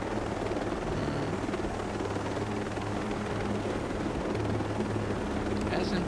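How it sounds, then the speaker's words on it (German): A helicopter in the video game Ghost Recon Breakpoint gives a steady, loud rotor drone and engine rumble that fills the whole stretch without a break. "Und im Heli."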